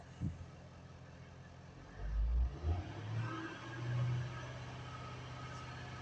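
A 2004 Mercedes-Benz ML 400 CDI V8 diesel with lost power and no boost is revved, a faint low engine rumble rising in a couple of swells over steady background hum, with no talk.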